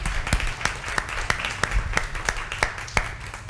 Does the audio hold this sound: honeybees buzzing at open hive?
no